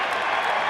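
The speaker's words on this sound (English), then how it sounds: "And you can hear what the crowd thinks of it." A basketball crowd at a Montana State vs. Montana men's game roars in reaction to a foul: a brief, dense wash of loud crowd noise with a hint of clapping.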